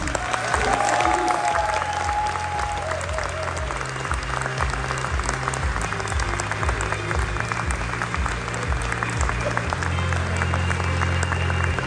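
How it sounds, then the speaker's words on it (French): An audience at an anniversary ceremony and tribute event applauds its guests with sustained, dense clapping from a large crowd, loud and steady for about twelve seconds with no break. "Vous pouvez une dernière fois les applaudir."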